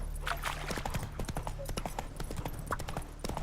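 Horse hooves clip-clop at a steady walking pace in The Witcher 3 game, close and distinct over a low ambient bed, with a brief bit of speech.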